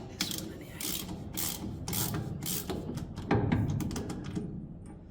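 A wrench tightens a bolt on the left steering knuckle assembly of a Saxon under restoration, giving repeated ratcheting clicks in bursts that run steadily, close and moderately loud, with no talk.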